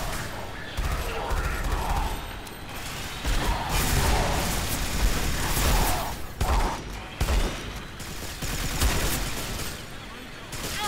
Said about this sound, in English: Stop the chain gun.